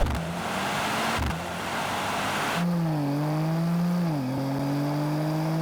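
Two cars, an AMG C63 S and a BMW M3, accelerate hard side by side in a drag race, one engine tone climbing steadily through gear changes with a brief dip, loud and close throughout.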